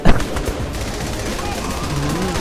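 Rapid gunfire in the video game Saints Row The Third, a burst of sharp shots at the start followed by a dense, steady barrage, loud and close.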